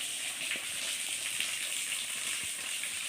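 Steady rushing water pours down like a natural shower beside giant alocasia plants in Gurong, Bicol, a continuous close hiss filling the scene with faint scattered taps beneath.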